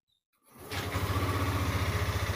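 Yamaha Lexi or NMAX scooter engine starting after a moment of silence, then settling into a steady, close idle with an even low throb.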